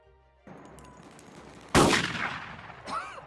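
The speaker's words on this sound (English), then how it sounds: "The robbery doesn't go as planned when the cops arrive and open fire." Police opening fire in a bank robbery shootout: one sharp, loud gunshot crack rings out over a low rumbling background, with a fainter echoing report near the end.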